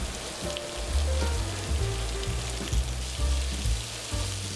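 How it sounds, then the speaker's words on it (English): Scallops searing in a cast iron skillet on high heat give a dense, steady close-up sizzle that runs unbroken, with a faint low tone murmuring underneath. "On a cast iron skillet on high, add our scallops."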